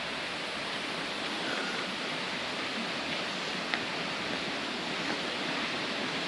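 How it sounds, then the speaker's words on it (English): Big Coban Rondo waterfall near Batu, Malang, roaring as a steady, broadband rush of falling water, continuous and fairly close with no speech over it. "That's a big waterfall."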